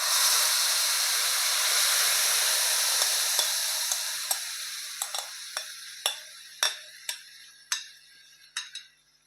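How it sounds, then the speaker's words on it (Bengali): Spiced chickpea batter poured into shallow oil in a wok sizzles and hisses steadily, the frying spreading into a broad crackle, followed by a run of sharp, irregular utensil clicks and taps against the pan toward the end. "এবার আমি কড়াইয়ে অল্প তেল দিয়েছি, তেল দিয়ে আমি এবার এটাকে ঢেলে দেব।"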